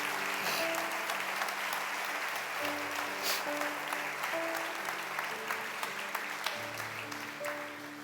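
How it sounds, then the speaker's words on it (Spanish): A church congregation applauds Jesus with steady, dense clapping that lasts throughout. Sustained organ or keyboard tones play under it. "¿Me das un aplauso fuerte al Señor Jesús?"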